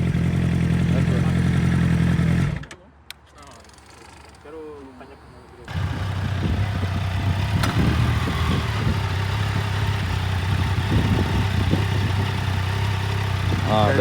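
A 2007 Suzuki GSX-R 600 engine idles nearby with a steady low burble. The sound cuts out for a few seconds, then the idle returns while people talk over it.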